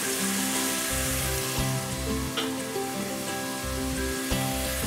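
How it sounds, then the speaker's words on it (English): Ginger sautés in a pan for barbecue sauce, a continuous dense sizzle like rain on a surface with occasional scraping stirs, close and steady throughout. "We want to stir that really well and just let it saute."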